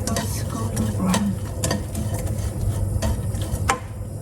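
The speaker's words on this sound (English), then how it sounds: "Let that saute till it goes golden brown." Half a teaspoon of cumin seeds sautéing in oil over medium heat, a steady close sizzle with a spoon stirring and scraping against the pan, alone without talk.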